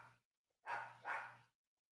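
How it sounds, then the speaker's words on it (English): A dog named Cookie barking indoors, a short yip followed by two sharp, loud barks in quick succession, then silence. "I got my dog Cookie barking, man."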